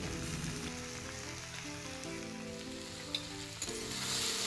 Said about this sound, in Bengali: সবজিগুলো ভাজার সময় চুলার তাপ কিন্তু খুবই লো রাখতে হবে বন্ধুরা